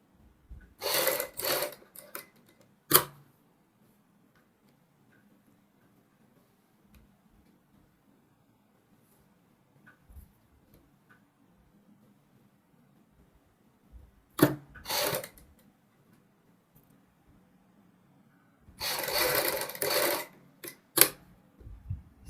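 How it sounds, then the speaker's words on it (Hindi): A sewing machine stitches piping onto a kurti neckline in short whirring bursts of a second or two, separated by long quiet gaps, close and clear with no voices. "इसमें लब के ऊपर सिलाई लगाएंगे"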